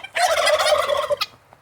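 Turkeys gobble in one loud, close, rattling burst lasting about a second on a farm, followed by a faint short call, with no talk.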